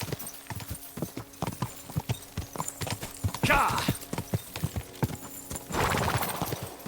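Horse hooves clip-clopping at a steady gallop in the medieval game Kingdom Come: Deliverance 2, a fast, close, rhythmic pounding with bursts of splashing or rushing noise, under faint talk.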